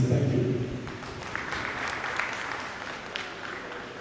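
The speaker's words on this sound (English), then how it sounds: "Let's give him a round of applause again, please." Audience applause at a Sierra Leone parliament and civic society partnership conference, a burst of clapping that settles into steady moderate hand claps from a room of people, with a voice briefly at the start.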